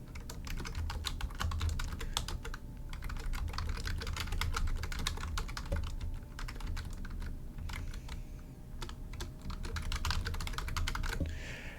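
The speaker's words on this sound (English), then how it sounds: "So I'll type in something about the Filipino guerrillas." Steady, rapid typing on a computer keyboard, with dense close key clicks continuing for the whole stretch and only brief pauses, and no voices.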